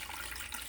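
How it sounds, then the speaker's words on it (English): Water pours steadily into a bowl of sourdough bagel dough, a continuous soft splashing rush with no talking. "we're going in with 330 grams of water"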